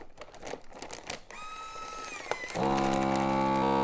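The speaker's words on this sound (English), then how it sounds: "You can hear it starting to wind up" A mylar bag sealing machine winds up with a rising motor whine after some crinkling and handling noises, then settles into a steady loud mechanical hum.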